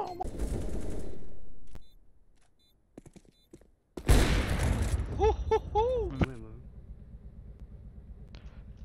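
Gunfire in a first-person shooter video game comes in rapid bursts, with a loud close volley followed by a later burst, mixed with game sounds and a player talking.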